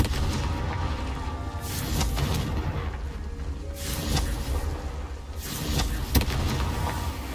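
Confringo fire spell blasts in Hogwarts Legacy, a run of heavy booming explosions with rumbling, crackling tails, loud and close with no talk.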